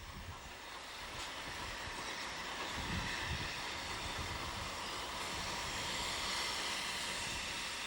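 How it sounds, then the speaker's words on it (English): A heritage train on the Keighley & Worth Valley Railway, a single-track branch line, rolls in toward a small station, its steady rumble heard from a distance and holding level throughout. "Here is a train arriving at Damham's, 2 miles up the line."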